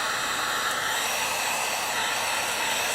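A hair dryer blows hot air onto freshly dabbed leather dye over a repaired tear in leather, a steady, loud, even whoosh with no break and no talking.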